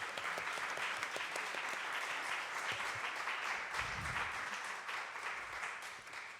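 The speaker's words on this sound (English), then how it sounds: "let's give an applause to all our speakers" Audience applauding the speakers at a school food procurement session, a dense steady wash of clapping filling the room and fading slightly at the end.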